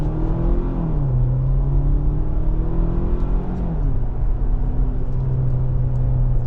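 2026 Kia Sportage EX accelerating in sport mode with manual-style gear shifts, a steady engine drone climbing in pitch, dropping at each shift, then climbing again, heard from inside the cabin.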